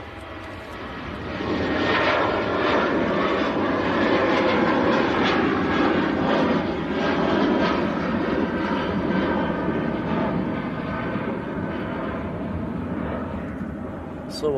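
A Ryanair airliner takes off at Manchester Airport, its jet engines a broad, loud roar that swells quickly and holds steady at a distance while someone talks over it.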